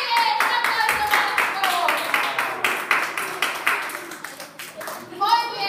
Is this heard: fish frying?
no